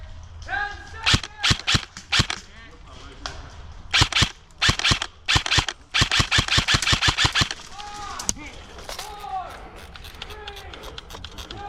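An M4 Guardian 2 airsoft rifle firing outdoors during a game, with rapid bursts and single snapping shots in quick strings, some close and loud, mixed with shouted voices and movement between volleys.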